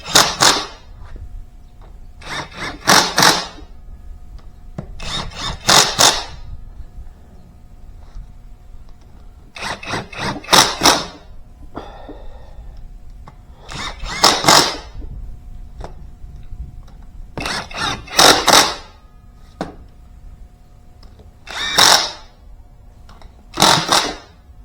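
A power tool hammers bolts tight on a hydro pump in a series of sharp, loud rattling bursts, each a second or so long, separated by short quiet gaps as it moves from bolt to bolt.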